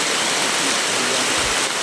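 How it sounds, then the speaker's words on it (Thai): Heavy rain pouring down outdoors among rocks, a dense, steady hiss that stays loud and close throughout, with no voices. "นี่ฝนตกหนักมากเลย"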